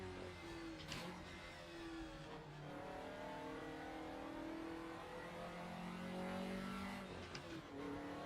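Race car engine in the RaceRoom sim racing game revving steadily for several seconds, a continuous close, loud whine with rising and falling pitch and brief shifts, no talking over it.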